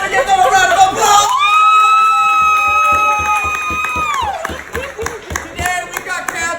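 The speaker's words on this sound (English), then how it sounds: "Can we give them a round of applause?" A restaurant crowd at Joe's Crab Shack cheers and whoops for a birthday, with shouts and a sustained whistle-like tone over loud, dense noise that dissolves into scattered clapping and chatter.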